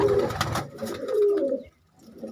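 Pigeons coo in a loft, a couple of low rolling calls close by over a busy background, ending in a short quieter stretch.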